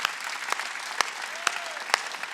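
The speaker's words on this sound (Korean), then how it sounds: "박수 치려면 세게 쳐" Congregation applause during a church sermon: steady, dense clapping from a room of worshippers, moderately loud, with a few sharper individual claps standing out, and no voices.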